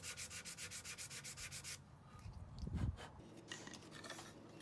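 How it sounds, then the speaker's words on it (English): Hand sanding of a wooden box's inside side panels: a close, steady run of about a dozen rhythmic rasping strokes, then quieter scattered scraping and a brief low knock. "After roughly sanding the inside of the side panels"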